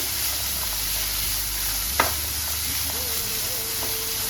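Cut green beans sizzle and fry steadily in a hot pan, a constant close hiss with a brief clatter of stirring midway and faint kitchen sounds.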